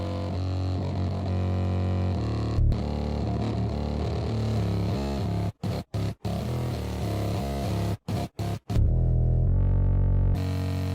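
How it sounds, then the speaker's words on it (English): A heavily distorted, buzzing synth tone with dense harmonics from the United Plugins Cyberdrive distortion plugin, dropping out in several brief gaps before swelling louder at the end. "Let's add another type of distortion here."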